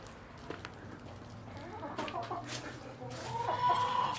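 Laying hens cluck softly inside a backyard coop, a scattering of low, close calls that grow a little busier toward the end, with faint rustling around them.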